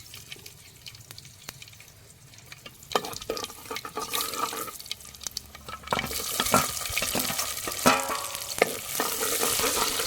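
Onions fry and sizzle in a pan, stirred with scraping strokes; the frying hiss builds louder partway through, with no talking.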